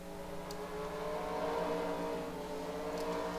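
Super late model race cars come around the track at Madison International Speedway in a racing game, a steady layered engine whine held at moderate distance and fairly faint.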